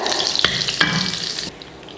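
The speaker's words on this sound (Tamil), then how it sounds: "ஸ்டவ் ஆன் பண்ணி பட்டர் சேர்த்துக்கலாம்" Butter melting in a hot pan on a stove, a soft steady sizzle with a couple of brief scrapes or clinks, cutting off quieter near the end.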